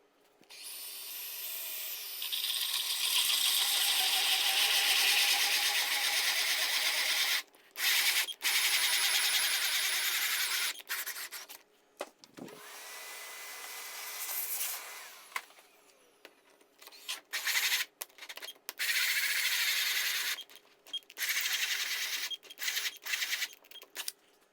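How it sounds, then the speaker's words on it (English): A power drill bores a pilot hole during a SawStop table saw upgrade, a loud continuous whir interrupted by several brief stops and restarts, close up with no talking. "and just start drilling."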